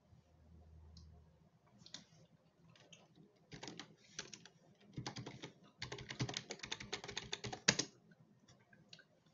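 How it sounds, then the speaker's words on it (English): Password being typed on a computer keyboard, a run of quiet, close key clicks in uneven bursts with short pauses between them, faint and alone without talk. "So you'll just have to retype your password."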